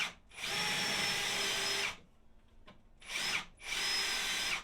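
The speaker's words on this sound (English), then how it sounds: "Drill this side, drill this side." Power drill boring into coppice wood while building a potting bench: two long whining bursts of drilling split by a short quiet pause with faint handling noise, close and loud.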